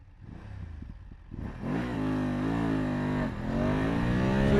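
A BMW F850GS motorcycle pulls hard under acceleration from a lower rumble into a loud rising engine whine, briefly dipping at a gear change before climbing again, close and alone.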